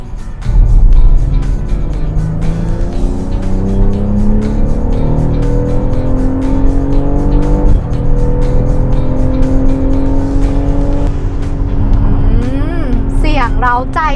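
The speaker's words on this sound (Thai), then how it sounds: "เวลาเราเหยียบครับเสียงเครื่องยนต์จะมา ค่อนข้าง เล้าอารมณ์เรา เลยทีเดียว" A BMW X6 xDrive40i M Sport engine revs up loudly in repeated rising pulls, climbing in pitch and dropping back between them, close up and sustained.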